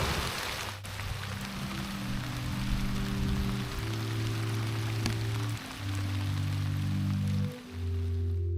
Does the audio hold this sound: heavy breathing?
no